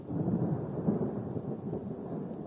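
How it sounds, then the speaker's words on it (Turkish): Deep thunder rolls continuously, low and heavy, with a soft hiss of rain underneath, in the countryside of Ahırlı, Turkey. "gök gürültüsü bir taraftan."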